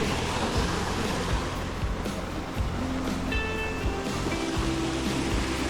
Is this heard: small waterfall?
yes